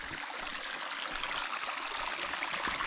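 Steady splashing rush of a small waterfall falling into a pool on Mount Roraima, Venezuela, a continuous bright hiss with faint gurgles underneath, close and unbroken.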